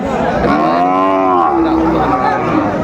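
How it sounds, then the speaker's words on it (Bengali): Sahiwal cattle at a busy cattle market moo continuously and loudly nearby. The long lowing calls sit over constant crowd chatter and background noise. "বেশ সুন্দর গরুগুলো কালেকশন করছে তুতা ভাই।"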